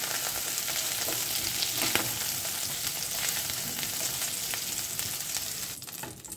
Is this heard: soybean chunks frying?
yes